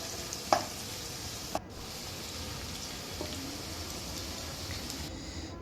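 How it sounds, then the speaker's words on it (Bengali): Chopped onions sizzle and fry in oil for a village-style duck curry, a steady crackling hiss with a couple of sharp clinks from stirring utensils. "প্রথমেই ভালো করে পেঁয়াজটা ভালো করে ভেজে নেব তেলে"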